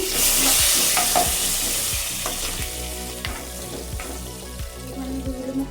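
Spices frying and sizzling in a pan for khichdi, a steady loud hiss with repeated stirring scrapes and small pops throughout, no talking.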